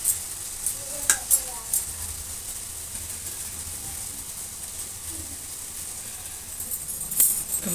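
Spices for shahi paneer sizzle in a pan, a steady hiss with a few clinks and stirring scrapes, fairly quiet and near, no speech.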